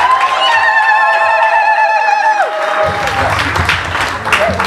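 A wedding congregation breaks into applause and cheering during a religious marriage ceremony, building to steady clapping after a sustained sung or held tone fades out.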